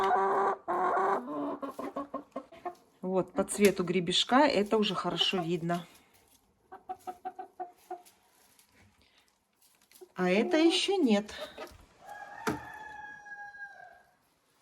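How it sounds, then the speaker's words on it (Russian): Araucana hens cluck and chatter in a backyard flock, with a brief crow-like call near the end; someone talks over most of it, and the birds are clearer in the pauses. "И я уже слышу, что курочки очень сильно начали разговаривать."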